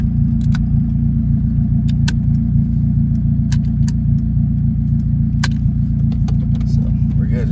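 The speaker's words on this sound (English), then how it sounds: "we're about to go for a little test drive right now, see how this car feels" A Toyota MR2 with a swapped Honda K24A engine drives along, a steady loud low cabin rumble with sharp clicks and rattles over it and no talk.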